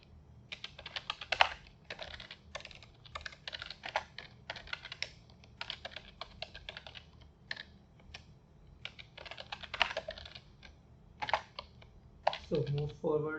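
Fast, uneven bursts of keystrokes on a computer keyboard as code for reversing a linked list in groups is typed. The clicks are close and crisp, with short pauses between runs and a brief low sound at the end.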